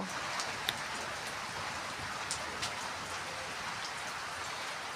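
Steady morning rain falling outdoors, a dense even hiss of drops with a few louder close drips hitting a surface, continuous and without voices.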